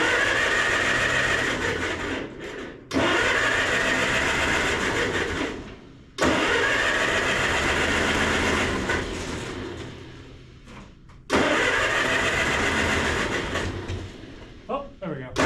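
Antique tractor engine cranking and trying to start at half throttle with the choke pulled, loud bursts of rough engine noise broken by short pauses, one attempt after another, with people talking over it.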